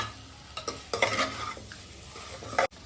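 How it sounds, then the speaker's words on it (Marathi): Chicken pieces are stirred into a spice masala in a pan, a spoon scraping and pushing through the mix with bursts of sizzling and a clack of utensil against the pan. "आणि चिकनला सुद्धा मस्तपैकी आपल्याला मसाल्यामध्ये मिक्स करून घ्यायचं आहे"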